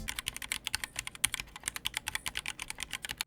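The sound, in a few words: typing on a modded keyboard with replaced switches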